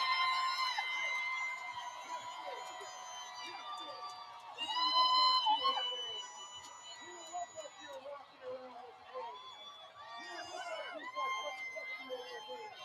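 Parade crowd at the 2022 Salt Lake City Pride parade, a steady bright roar of cheering and whistles with a louder swell midway, mixed with babble and some speech.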